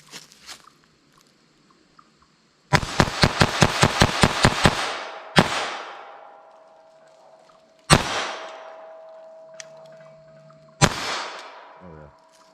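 Pistol firing Remington Yellow Jacket .22 LR rounds, a rapid string of about eight sharp cracks followed by three single shots spaced a few seconds apart, each with a short ringing decay.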